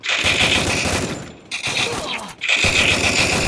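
Loud, sustained automatic gunfire from the video game Free Fire, fired in three long rapid bursts separated by brief pauses, close and dominant.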